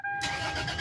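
A 2001 Toyota 4Runner's engine starts, with a brief starter whir that catches into a steady, close mid-pitched engine note. No talking.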